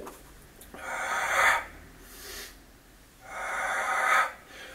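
Two long, breathy exhales during a Pilates exercise, each swelling and fading over about a second, separated by a quieter inhale, close and with no talk.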